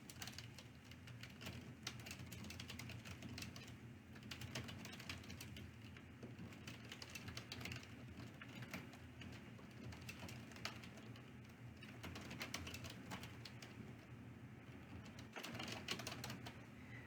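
Soft, quick keystrokes tap on a computer keyboard while a video description is typed into Facebook, a faint continuous patter with no voice over it.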